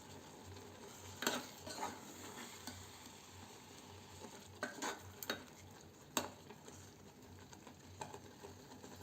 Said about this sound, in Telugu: సో ఇప్పుడు ఇది మగ్గిన తర్వాత తాలింపు వేసుకోవాలి మనము